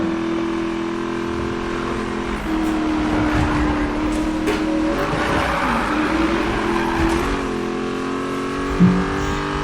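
A race car engine in the Need for Speed game, a loud sustained drone that shifts pitch as gears change, with tire noise and squeals rising over it.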